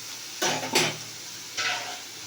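Red lentils (masoor dal) stir-fried in a pan, with three short scraping, sizzling stirs, close and fairly quiet, separated by brief pauses over low background hiss.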